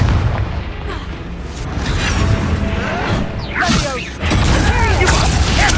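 Confringo fire spell blasts in the Hogwarts Legacy video game: booming explosive bursts and whooshes over a loud, dense game soundtrack, with repeated impacts through the clip.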